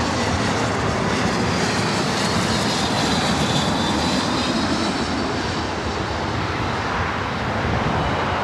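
A JetBlue airliner's jet engines roar at LAX in a steady, broad rumble with a faint high whine on top, constant and loud throughout with no talk.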